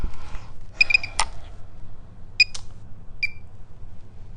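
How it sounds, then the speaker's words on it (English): Several short electronic beeps from a nearby microcurrent facial treatment device, spaced irregularly with quiet handling noise between them. "Wait for the beep"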